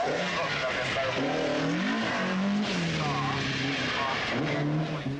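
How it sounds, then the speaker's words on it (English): A Ford WRC rally car is driven hard rallycross-style at a British rally event, its engine roaring continuously with rising and falling revs as a commentator talks over it. "John Taylor demonstrates his rallycross technique"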